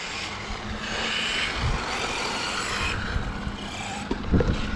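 An HPI Apache Flux RC truck with a 2200kv EMH motor runs on a road against the wind, its electric motor whining steadily over gusty wind rumble, with a few sharper knocks near the end.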